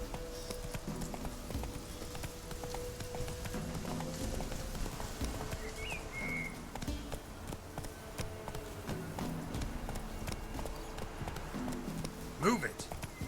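A horse gallops in The Witcher 3 video game, with rapid rhythmic hoofbeats running steadily at moderate level through the whole stretch, mixed with game ambience and a brief brighter sound near the end.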